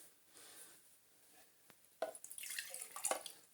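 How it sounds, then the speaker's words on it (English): Water dripping and splashing from a HoLife 14V cordless wet and dry vacuum cleaner as it is emptied, soft scattered drips at first, then a louder burst of trickling and spattering near the end. "everything is dripping out"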